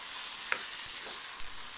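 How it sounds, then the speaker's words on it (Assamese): Drumstick flowers with duck egg stir-fry in a pan, giving a faint, steady sizzle broken by a couple of soft scraping stirs. "আৰু অলপ সময়ৰ কাৰণে লৰাই ভাজি থাকিম"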